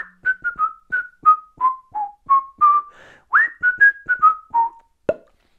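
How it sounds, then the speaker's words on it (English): A person whistles a melodic run of clear, pitched notes with short gaps between them, close and alone, ending with a brief sharp upward note. "Practice your whistling."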